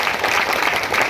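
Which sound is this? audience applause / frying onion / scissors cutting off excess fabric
audience applause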